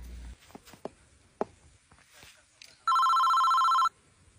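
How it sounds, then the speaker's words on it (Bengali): A phone ringtone sounds as one steady, loud electronic tone burst lasting about a second, following soft footsteps, rustling and a few light knocks in a quiet room. "কিরে রিংটোন কই বাজে?"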